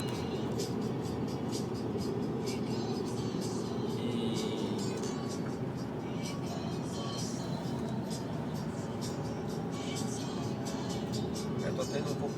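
A VW Eos TSI with a 1.4 16-valve engine drives along, giving a steady broadband hum of engine and road noise from inside the car, with a person talking over it.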